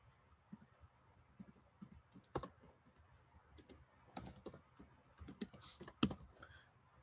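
Keystrokes on a computer keyboard while entering a layer name in game development software: quiet, irregular clicks in short bursts with a few sharper taps, close and alone.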